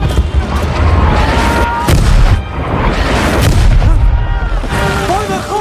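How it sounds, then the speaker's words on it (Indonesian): Heavy artillery shelling hits trenches at the front line: repeated deep booms and blasts rumble one after another, loud and close, with a crackling, chaotic wash of explosions between them. "hujan artileri pun telah menghantam parit-parit mereka"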